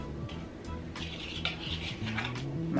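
Soft scraping and clinking of a utensil stirring almond flour, xanthan gum and baking powder into a mixture in a bowl, continuous and close, with faint kitchen background and no speech.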